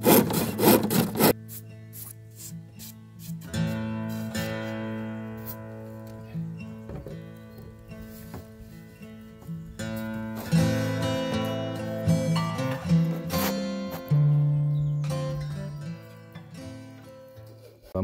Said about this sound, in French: On va commencer à couper le contreplaqué avec une petite scie manuelle.